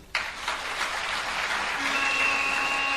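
Audience at a youth congress of the COJEP political party, breaking into loud, sustained applause that swells quickly and holds steady, with cheering voices and a whistle-like tone rising over the clapping.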